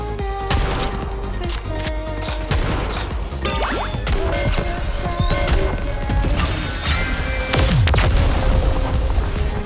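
Gunfire in Goddess of Victory: NIKKE, with dense, booming volleys and metallic impacts layered over busy battle effects and music, loud and continuous throughout.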